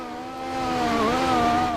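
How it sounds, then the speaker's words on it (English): Formula Europe race car engine on a pushing lap at Bahrain, a steady high-pitched drone that swells louder partway through and holds, pitch dipping briefly then rising again, with no talk. "a try to listen to the engine"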